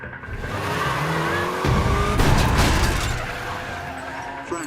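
Car chase from Captain America: The Winter Soldier, with a loud engine roar and tires skidding and screeching across the pavement, bursts of impact noise in the middle, and faint voices mixed in.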